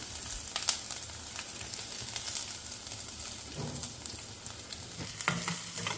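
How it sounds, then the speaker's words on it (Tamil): Shallots, dried red chili and curry leaves for rasam fry in hot oil, giving a steady soft sizzle with occasional spoon stirs and scrapes, fairly quiet and without speech. "இதை நல்லா வதக்கி விட்டுக்குங்க."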